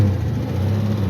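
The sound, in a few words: car engine idling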